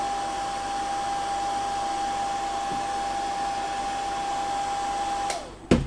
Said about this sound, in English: you'll have to excuse me for speaking over the hairdryer